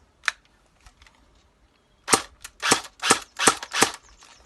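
An airsoft AK rifle fitted with a tracer unit fires close by: one early crack, a pause, then about six sharp, snappy shots in slow semi-automatic succession.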